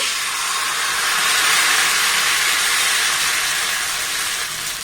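Rice-lentil batter for chakli pitha sizzles steadily on an oiled pan, a loud, continuous close-up hiss that swells slightly midway and holds without pause.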